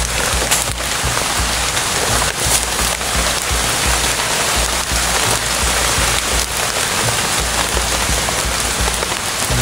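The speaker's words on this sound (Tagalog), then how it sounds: "Sobrang lakas ng ulan." Heavy rain pours down in a dense, constant roar of drops hitting surfaces, loud and close, with no pauses across the whole stretch.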